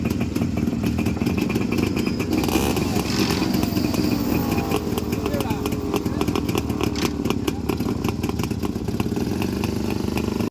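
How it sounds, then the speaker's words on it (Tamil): Two motorcycles, a Rajdoot and a Yamaha RX 135, race on a street, their two-stroke engines buzzing loudly and continuously with rising and falling revs, while voices are heard over the engine noise. "இந்த பைக் பேர் ராஜ்தூத், அது பேர் RX 135 தான்."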